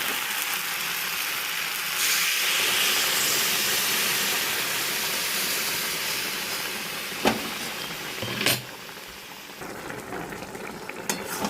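Hot water poured over fried vegetables and fried lentil dumplings in a pan for a vegetarian curry gives a steady, close hiss and sizzle, with a few sharp utensil clinks near the end and no talking.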